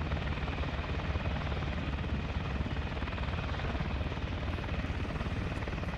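Helicopter in the video game Arma 3, a steady close rotor thrum and whine that keeps going without a break and without voices.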